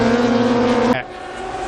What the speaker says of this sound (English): let's see the gearbox as he's going through the gears. Down we go, 4th, 3rd